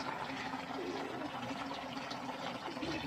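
Water pouring steadily into a bucket before shorts are washed in it, a continuous gushing, splashing rush heard close up for the whole stretch.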